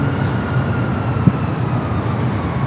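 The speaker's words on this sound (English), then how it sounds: "So we got back-to-back 787-10 Dreamliners up here on the north side." A Boeing 787-10 Dreamliner arrives at LAX, a loud, steady low engine roar with a brief thump partway through.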